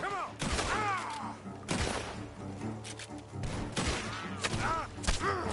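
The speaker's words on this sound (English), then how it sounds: "The gunshots are coming from that barn!" Rapid bursts of video game gunfire crack and thud repeatedly, mixed with shouting voices and loud action sounds throughout.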